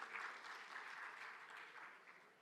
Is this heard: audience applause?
yes